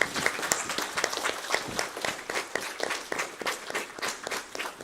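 Round of applause from the audience at an Arya Samaj foundation day program at a gurukula, dense steady clapping from many hands filling the whole stretch at moderate loudness.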